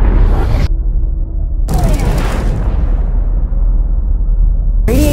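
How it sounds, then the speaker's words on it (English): A nuclear bomb detonates over downtown Los Angeles as a heavy, deep rumbling roar, loud and close, broken by abrupt cuts into silence before the booming blast surges back. "This is downtown Los Angeles, and I'm gonna blow it up with a nuclear bomb."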